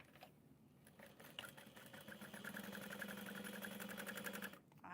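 A sewing machine topstitches a divider panel flat on a tote bag, running as a steady, fairly quiet mechanical hum for a few seconds before stopping.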